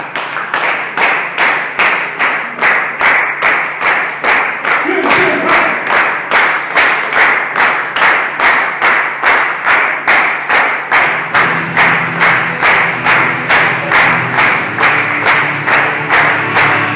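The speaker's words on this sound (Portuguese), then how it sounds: "Vocês vão deixar mais palmas, amém? Amém? Amém assim. Então vamos lá, as palmas tem que ser assim, ó." A church congregation claps in tight, even rhythm about three times a second, loud and close. A voice calls out briefly early on, and sung music joins under the clapping in the later part.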